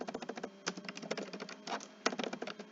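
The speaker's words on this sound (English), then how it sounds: "oh, I can't type today." Rapid typing on a computer keyboard, a quick uneven patter of close key clicks broken by brief pauses, with no voices.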